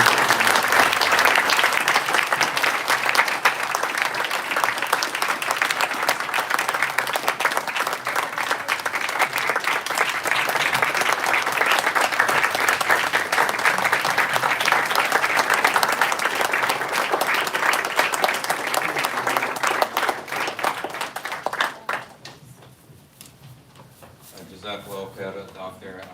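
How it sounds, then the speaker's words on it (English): Audience applause for Dr. Ayaz Pathan after his talk on a medical mission, loud and sustained clapping from a large crowd for about twenty seconds before fading into quiet room noise. "please, a round of applause for Dr."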